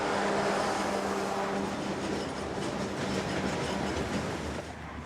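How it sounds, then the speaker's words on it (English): A freight train hauling limestone, led by an EMD SD70M locomotive in demonstrator paint, rumbles past steadily on the A-line into Tampa, with a continuous clatter of wagons at moderate distance. "Coming into Tampa on the A-line is K996. The just acquired SD70M still in EMD's demonstrator paint."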